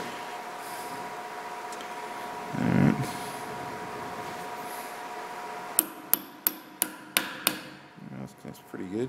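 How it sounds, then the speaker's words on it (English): A hammer strikes wood about seven times in quick succession, sharp and close, after a stretch of quiet workshop background and a brief low rumble. "I got a hammer right here."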